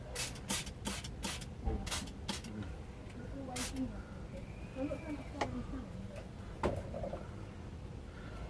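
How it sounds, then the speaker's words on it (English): A quick series of short, hissing squirts from a spray bottle of fungicide on plants comes close together, then a few more scattered squirts, with faint background noise and murmuring between them. "just give it a little spray"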